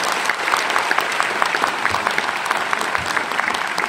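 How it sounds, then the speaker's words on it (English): An audience at a school annual day celebration claps steadily throughout, with many hands creating a continuous, moderately loud wash of applause. "Give a big round of applause to them."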